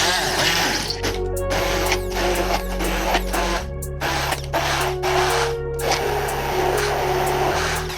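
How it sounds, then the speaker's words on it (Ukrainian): Steady, loud motor whine of an immersion blender running continuously, its pitch dropping slightly partway through as it churns through tomatoes. "я просто подрібню їх блендером"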